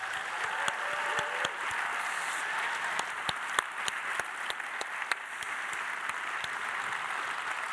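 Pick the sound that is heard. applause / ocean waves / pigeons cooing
applause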